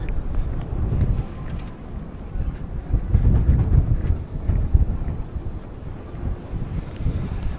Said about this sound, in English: It's going to be pretty windy up there.